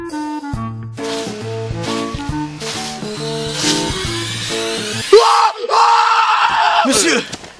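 A man lets out a loud, sudden scream after a few seconds of bouncy music, his strained, ringing yell breaking in near the end and lasting about two seconds.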